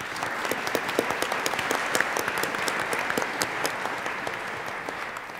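An audience at an evening talk applauds steadily throughout, a continuous wash of many hands with crisp individual claps standing out, moderately loud and not interrupted.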